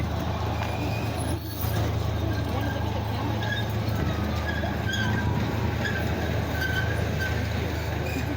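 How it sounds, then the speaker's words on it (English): A train passes by at an outdoor picnic and rally, a steady heavy rumble with clattering wheels and faint metallic squeals, loud and continuous throughout with a brief dip near the start. "The train goes by."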